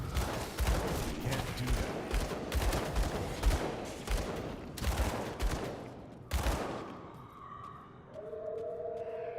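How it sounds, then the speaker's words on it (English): Repeated booming explosions and bursts of gunfire-like blasts in quick succession in the video game Grim Dawn, loud and punchy, followed by quieter electronic tones. "These explosions are pretty good when they trigger."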